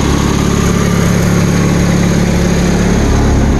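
A Bolens Grounds Keeper tractor engine runs loudly and steadily nearby at a constant idle-like drone, with no speech over it.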